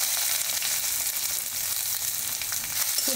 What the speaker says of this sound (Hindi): तो मैं डालूँगी जीरा, ये एक मीठी लकड़ी का एक टुकड़ा, लौंग, इलायची, और प्याज